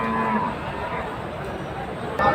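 Cattle low and moo at the crowded Gabtoli sacrificial livestock market on the day before Eid, a short bellow opening over constant market chatter and crowd noise.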